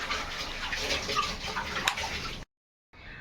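A tap runs steadily while dishes are washed at home, a continuous splashing stream with faint clinks, close by. It cuts off briefly and then resumes more softly.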